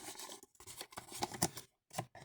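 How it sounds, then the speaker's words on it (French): Several short crisp snips of scissors cutting through a paper label, irregular bursts with brief pauses between them, close and fairly quiet. "Ensuite, vous reprenez votre paire de ciseaux."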